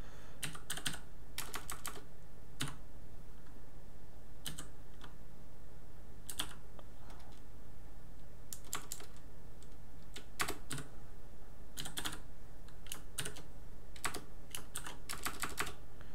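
Someone types code on a computer keyboard during a programming session, with scattered bursts of close, crisp key clicks separated by short pauses over a steady low hum.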